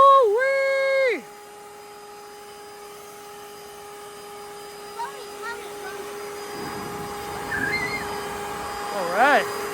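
A Ryobi 40V brushless electric leaf blower rated 730 CFM and 190 MPH roars loudly at turbo for about a second with a high steady whine, then drops to a quieter hum with brief pitch swells near the end.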